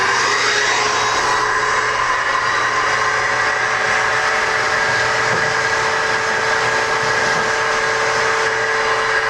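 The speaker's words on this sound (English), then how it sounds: "we're going to take a shop vac, and we're going to vacuum out what we gathered up with the paintbrush" A shop vac runs continuously with a steady, loud whooshing drone as it vacuums ash and debris out of the fire pit of a Pit Boss Pro 1100 pellet grill, close by with no voices.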